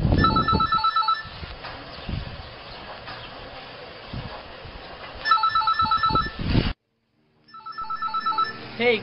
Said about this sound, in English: Hey Carlo, your phone is ringing.